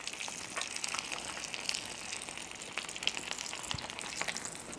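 Corned beef and rice sizzle quietly in a pan, a soft, even crackle with scattered pops and a faint background hiss, no voices.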